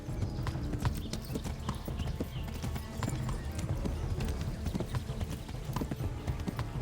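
Horse hooves galloping in the medieval video game Kingdom Come: Deliverance, a rapid, steady clatter of hoofbeats throughout, fairly faint, with no speech.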